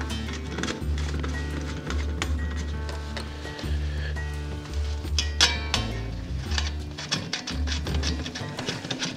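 Metal ready-rod legs are screwed into a lightweight camping stove, giving repeated close metallic clinks, scrapes and knocks in an irregular rhythm over a low steady hum.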